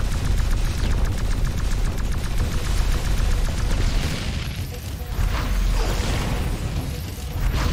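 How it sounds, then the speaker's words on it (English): Continuous gunfire and explosions from the X-Morph: Defense tower-defense game, a dense, loud barrage of rapid shots and booms that never lets up, with brief bursts standing out near the end. "Ah, beautiful explosions."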